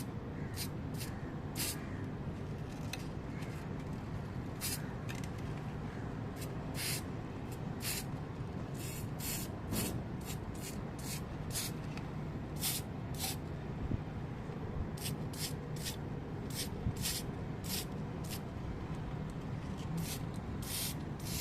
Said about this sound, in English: I might need to find a darker page for me to try and spray paint this.